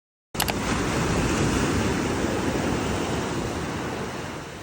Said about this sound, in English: the beach is really nice. I love the waves.